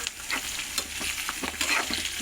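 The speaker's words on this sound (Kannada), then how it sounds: "ಈರುಳ್ಳಿ ಒಂದು ಸ್ವಲ್ಪ ಫ್ರೈ ಆದಮೇಲೆ ಈಗ ಬೆಳ್ಳುಳ್ಳಿ ಸೇರಿಸ್ಕೊತಿದ್ದೀನಿ." Onion and garlic frying in a pan, with a steady sizzle broken by clicks and scrapes from stirring, close and moderately loud.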